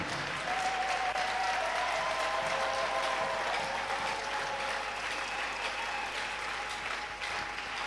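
A church congregation claps in sustained, dense applause while acclaiming Jesus, steady and loud throughout, with faint voices and a high tone running beneath.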